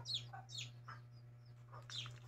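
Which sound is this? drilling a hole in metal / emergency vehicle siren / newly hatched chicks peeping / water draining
newly hatched chicks peeping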